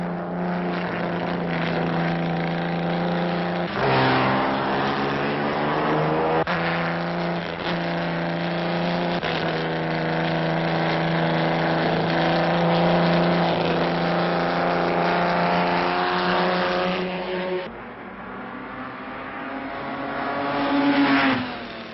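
Historic high-powered racing cars speed past with a continuous, loud engine roar whose pitch shifts and swells throughout, rising again near the end.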